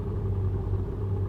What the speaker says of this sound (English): Now I'm going to put the lightest of feather touches on my throttle.